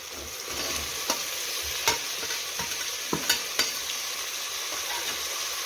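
Potatoes and peas go into a pan of frying tomato masala for a spiced rice dish, stirred with a spoon: a steady close sizzle with a few sharp scraping clicks of the spoon against the pan.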